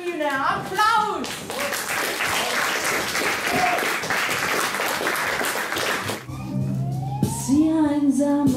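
A crowd at a live concert in a gallery breaks into dense, loud applause for several seconds, then it fades as voices and music take over.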